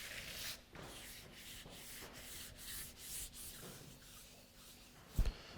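Soft, repeated rubbing and scraping of buttercream being worked onto a cake, quiet strokes in an irregular rhythm ending with a brief louder knock, with no talk.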